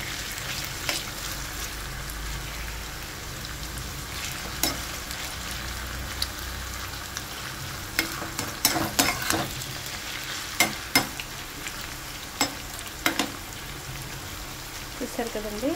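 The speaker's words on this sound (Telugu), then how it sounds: "ఆయిల్లో నేను ఈ బంగాళదుంప ముక్కలు వేసేస్తున్నానండి" Potato pieces fry in hot oil with a dense, continuous bubbling sizzle and occasional sharp clinks and scrapes of a utensil stirring them.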